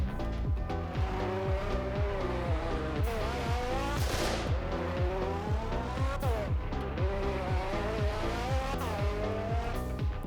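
A Lamborghini Urus SUV races around a track in the Roblox game, its engine loud and close, revving up and down through repeated gear shifts, with tire squeal and skidding through the corners.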